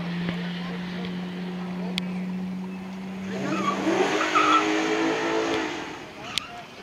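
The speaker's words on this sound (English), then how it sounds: "This little four-cylinder turbo keeping up against a V8 sedan." A 2020 Honda Accord Sport 2.0T four-cylinder turbo races an Infiniti M56S 5.6-liter V8 sedan, with a steady engine drone that gives way to a rising, louder rush of engine and road noise as the cars pass, under talking voices.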